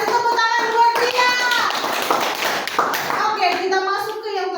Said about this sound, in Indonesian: kasih tepuk tangan buat dia.